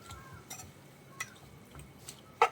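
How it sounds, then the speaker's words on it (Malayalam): Pineapple pickle with vinegar being stirred in a pan: a few faint, scattered scrapes and clinks of a utensil against the pan, with no voices. "ഇനി നന്നായിട്ടൊന്ന് മിക്സ് ചെയ്ത് കൊടുക്കാം"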